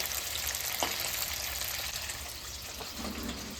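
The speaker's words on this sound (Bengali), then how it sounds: "পনির ভাজা হয়ে গেছে এবার নামায় নেব লাল লাল করে ভাজছি" Paneer sizzles in hot oil in a pan, a steady crackling hiss with a couple of faint clinks as it browns.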